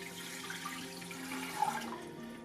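Tap water pours steadily into a homemade distiller, a soft continuous rushing and trickling flow at low volume with no voices.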